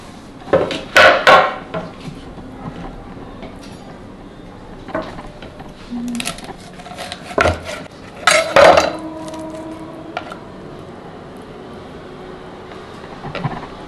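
Knife work in a home kitchen gives several sharp clacks and taps against a board and dishes, coming in irregular bursts with quiet gaps between them.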